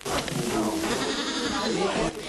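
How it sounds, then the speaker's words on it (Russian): Goats bleat on a farm with nearly two hundred animals, a wavering drawn-out call close by, mixed with a voice speaking over it. "Айвар Стабулевич каждую свою козу знает в лицо, а их у него почти две сотни"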